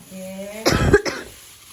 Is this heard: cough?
yes